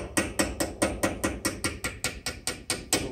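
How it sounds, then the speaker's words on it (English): Light hammer taps seat the front brake hub of an Isuzu NPR HD truck, a steady run of about fourteen evenly spaced metallic knocks, close and moderately loud, with no talk. "Light taps, you don't want to force it."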